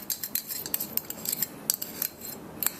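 Lumps of golden brown sugar are broken up in a bowl with a utensil, producing rapid light clinks and scraping taps in an uneven rhythm, close and fairly quiet with no talking.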